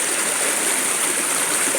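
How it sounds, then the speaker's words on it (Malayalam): Rainwater after two days of rain rushes down a path, a steady, close, loud watery roar with no break, like a small stream running hard. "വെള്ളം കുത്തി കുത്തി പോകുന്ന കണ്ട"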